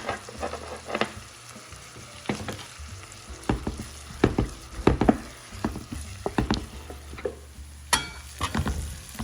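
Onions and crushed garlic frying in melted butter for shakshuka, with a continuous close sizzle broken by repeated spoon scrapes and stirring knocks against the pan.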